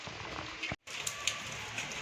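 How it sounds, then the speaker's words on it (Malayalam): Heavy monsoon rain falls in the Uttarakhand hills near Kedarnath, a steady dense hiss with scattered louder drops, broken by one brief silent gap. "നല്ലതായിട്ട് മഴ പെയ്യുന്നുണ്ട്"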